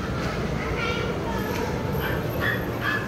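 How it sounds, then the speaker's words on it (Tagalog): A dog barks and yips a few times inside a busy shopping mall, the short calls cutting through steady crowd murmur and nearby talk. "May aso."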